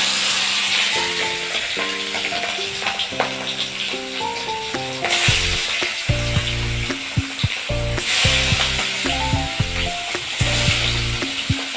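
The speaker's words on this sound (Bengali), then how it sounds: "তো মাছটা এখন ভাজছি" Fish sizzles as it fries in a pan, a steady crackling hiss with intermittent scraping and clinking as it is stirred, while a loud melodic tune plays over it.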